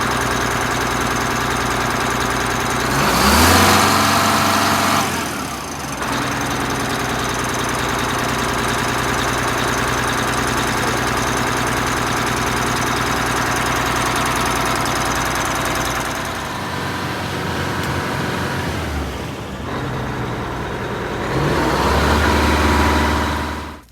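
A Detroit Diesel 8V92 engine in an MCI bus, fitted with a blower, starts in cold weather and runs with a loud, steady, rough diesel clatter close by for over twenty seconds, with a few surges in revs.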